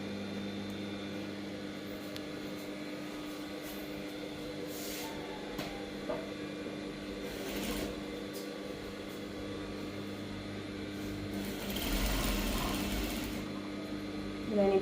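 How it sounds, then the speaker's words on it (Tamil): A sewing machine runs steadily while stitching a gown, a continuous mechanical whir with low hum, a brief louder burst near the end, and faint background noise throughout. "தையல் போட போகிறேன் அப்படியே ஃபுல்லாக"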